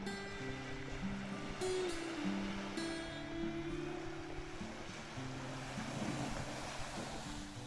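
A river at a highland crossing in Iceland rushes in a steady, fairly faint broadband wash of flowing water, with some wind buffeting the microphone and no voices.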